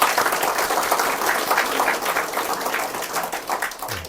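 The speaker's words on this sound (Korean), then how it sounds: "격려의 박수 드리겠습니다." A church congregation applauds during a Sunday service, dense steady clapping from many hands filling the room and holding at an even level throughout.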